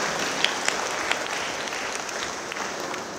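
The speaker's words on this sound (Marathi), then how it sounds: "टाळ्या वाजवा माझे भाऊ बहिणींनो." A church congregation applauds a visiting bishop at a Holy Eucharist celebration, with steady, fairly distant clapping from a crowd that holds evenly for a few seconds.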